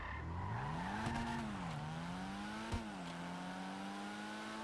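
Volkswagen Golf MK1/2 styled small car engine in GTA 5 Online, a close droning note rising and falling as the throttle shifts, with a brief thump midway and no speech.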